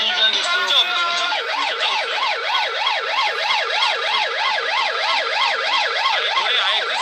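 A police car siren wails continuously up and down in a fast, regular rising-and-falling cycle, loud and close throughout.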